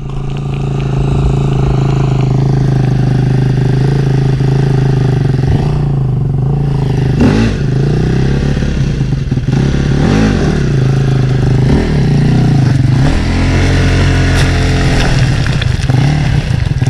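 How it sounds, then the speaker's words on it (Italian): Off-road motorcycle on rocky Sardinian mountain terrain, engine loud and close throughout, revving in repeated surges and blips over a steady idle, with no talk. "Ma monta in moto!"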